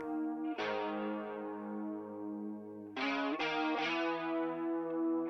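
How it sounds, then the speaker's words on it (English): A synth backing track in a music production plays sustained chords drenched in a messy spring reverb. The effected tones swell and decay in long washes, with a few new chord hits near the end. "Then I've put the Arteria spring reverb, a nice kind of messy,"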